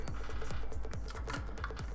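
Keyboard keys are pressed in quick sequence as arcade-style inputs on a Mixbox, giving a steady run of crisp, close clicks and taps in an even rhythm.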